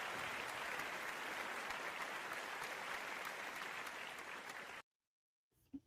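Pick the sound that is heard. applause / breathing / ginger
applause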